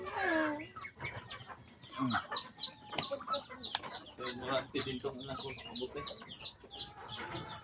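Breeding chickens in a backyard coop in the Philippines cluck and chatter continuously at close range, with overlapping calls and brief squawks; a person speaks briefly near the start.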